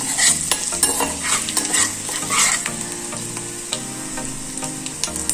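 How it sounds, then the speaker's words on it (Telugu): A spoon stirs a sizzling oil tempering with a pinch of turmeric in a pan for Andhra-style tomato pepper rasam, giving steady frying crackle with repeated scraping strokes, close and fairly loud throughout, no talking. "అంతా కలిసేట్టుగా ఒకసారి మిక్స్ చేసుకున్నాం."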